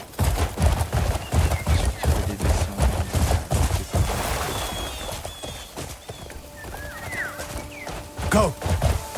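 A horse gallops over steep ground in the Crimson Desert video game, its hooves pounding in a fast, loud, steady rhythm before easing off, with whinnies and distant gunfire in the mix.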